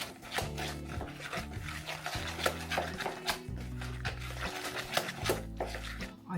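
Turkish-inspired red pepper meatball mixture being stirred by hand in a bowl, a close, irregular series of soft wet squelches and scrapes with faint clinks, no talk.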